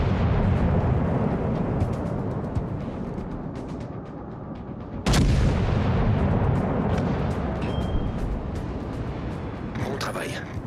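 Warships fire their naval guns in the World of Warships: Legends video game, with a continuous rumbling battle roar, one sharp heavy blast midway and scattered booms, while a voice speaks over the noise.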